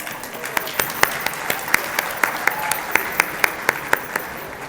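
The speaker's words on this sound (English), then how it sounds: "please join me in giving a warm and enthusiastic round of applause to the Canadian Tamil Chamber of Commerce" Warm applause rises from the crowd at the Canadian Tamil Chamber of Commerce's 25th annual awards gala: steady many-handed clapping with a few sharp, rhythmic claps standing out near the front, sustained throughout without speech.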